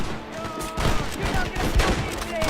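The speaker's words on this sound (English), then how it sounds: "Stop shooting at me!" A close gunfight in Red Dead Redemption: rapid overlapping gunshots crackle in a steady fusillade, with shouting voices mixed in the background.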